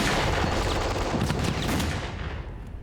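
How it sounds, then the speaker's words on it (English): Rifle, machine gun and mortar fire in a WWII battle near Arnhem, with German troops firing on advancing British forces: a loud, dense, continuous roar of overlapping gunfire and blasts that eases slightly toward the end. "German rifles, machine guns and mortars pounded the advancing British."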